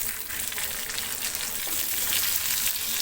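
Green chilies fry in hot oil, giving an even, close sizzle that hisses without a break for a few seconds and rises slightly toward the end, with no speech.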